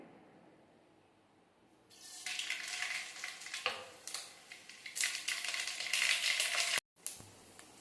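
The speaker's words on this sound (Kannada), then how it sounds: "ಒಗ್ಗರಣೆಗೆ ಸಾಸಿವೆ ಉದ್ದಿನಬೇಳೆ ಶೇಂಗಾ ಹಸಿಮೆಣಸು ಎಲ್ಲ ಹಾಕಿ ಹುರ್ಕೊಂಡು" Mustard seeds, urad dal, peanuts and green chillies crackle and sizzle in hot oil after a quiet start, a loud popping spatter with a short break before it resumes.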